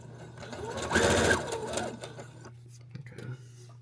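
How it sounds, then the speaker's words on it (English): A sewing machine stitches a zigzag seam, its motor whirring in a steady, close, loud run that swells for about a second, then eases to a quieter hum with faint clicks near the end. "Let's do a zigzaggy stitch."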